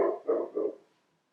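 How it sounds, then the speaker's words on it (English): A house dog barks three times in quick succession, fairly close and clear, then falls quiet in an otherwise calm room. "That's our dog."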